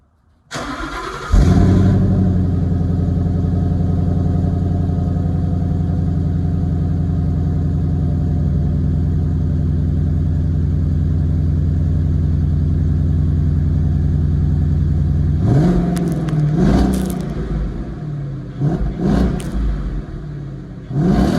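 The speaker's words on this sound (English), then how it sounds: "Let's take a listen to a few revs of the Mustang GT." A 2015 Ford Mustang GT Premium V8 engine starts with a burst, then idles with a deep steady rumble before several sharp throttle revs rise and fall near the end.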